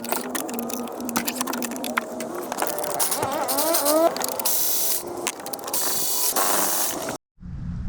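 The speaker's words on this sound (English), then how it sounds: "Now we need to start taking off the actual manifold bolts, which are 12 millimeter. Just gonna crack them loose." Ratchet cracking loose 12 mm intake manifold bolts on a Honda 2.4L or 1.5L engine, close repeated clicking pawl strokes and metallic creaks in bursts, then a brief silence near the end.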